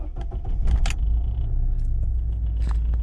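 A BMW E36 Compact with an M43 engine runs on a test drive. A steady low engine and road rumble fills the cabin, with a few light rattles and clicks near the start.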